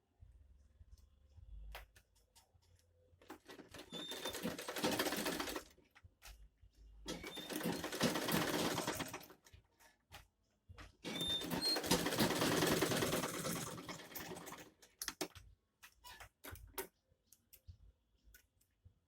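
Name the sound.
sewing machine sewing a mini bag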